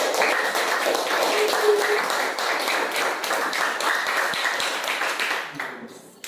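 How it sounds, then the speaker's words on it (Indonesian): Classroom audience giving a round of applause, dense steady clapping from many hands that fades out toward the end. "Kita beri aplaus dulu ya"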